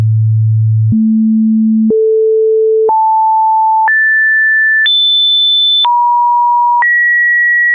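A series of steady pure sine test tones, each held about a second, stepping upward in pitch one after another, then dropping back and jumping up again for the last two; loud and clean with no talking.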